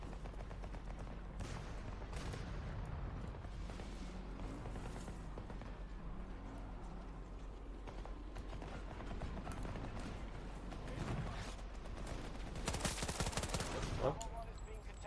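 Enemy gunfire across a Battlefield 2042 battlefield: faint, distant bursts of automatic fire and scattered shots over a steady rumble, swelling into louder cracks near the end.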